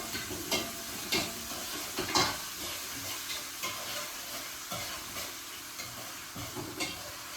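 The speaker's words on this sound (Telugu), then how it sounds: "చూడండి, ఈ మాత్రం ఫ్రై అయితే సరిపోతుంది" Tempering spices with thinly sliced green chilies frying in oil for paddu, a soft continuous sizzle with scattered stirring knocks from a spoon, fairly quiet and close.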